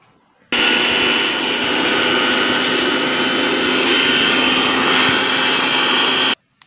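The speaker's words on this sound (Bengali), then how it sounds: "এখন আমি মিক্সার করে নেব" An electric mixer grinder whirs loudly and steadily for about six seconds, starting and stopping abruptly, grinding lightly roasted cumin seeds.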